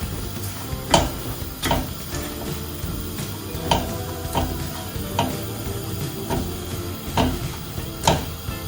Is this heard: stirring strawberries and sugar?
yes